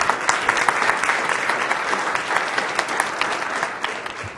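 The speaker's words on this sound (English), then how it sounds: "Let's please give them a round of applause." Steady applause from an audience in a hall after presenters' pitches at a junior anglers' competition, dense clapping sustained at even loudness throughout, no speech.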